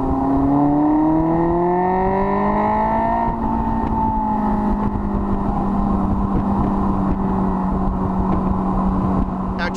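A car engine revs up hard, its pitch climbing steadily for a few seconds before holding a loud, sustained roar close by.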